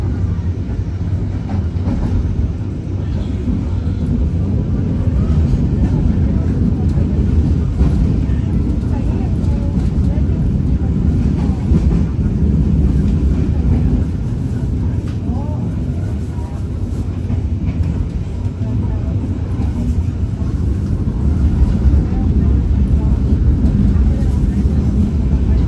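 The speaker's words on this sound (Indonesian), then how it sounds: "Saya naik kereta api Pangrango ini lagi berjalan belok-belok menyusuri jalanannya teman-teman" The Pangrango passenger train on the Sukabumi–Bogor line rumbles along a winding track, with a loud, continuous low roar and faint clickety-clack of the cars, heard from inside the carriage.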